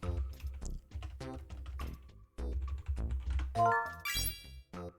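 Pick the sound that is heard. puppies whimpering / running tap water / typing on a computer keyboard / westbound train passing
typing on a computer keyboard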